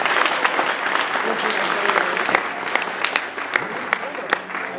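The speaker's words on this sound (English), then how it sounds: "Big round of applause for that man representing Poland." Audience applause at the Ardacon tournament honouring a player representing Poland, a dense, steady wash of clapping with sharp individual claps poking through, lasting throughout at a fairly close, full level.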